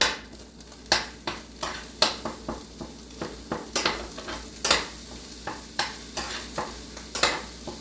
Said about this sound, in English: we're gonna add in our rice. So let's take our rice.